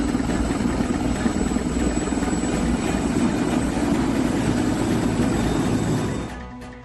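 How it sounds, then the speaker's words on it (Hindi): A helicopter's rotor and engine drone loudly and steadily, a continuous thrumming roar that cuts off abruptly near the end. "तुरंत एम्बुलेंस तैनात हुए और घायल सैनिकों को अस्पताल ले जाने के लिए जल्द ही एक हेलीकॉप्टर आ गया।"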